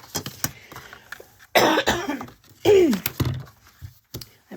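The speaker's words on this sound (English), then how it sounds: "Her coughs are terrible" A woman coughs in several harsh, strained bursts, separated by short pauses and quieter breathing.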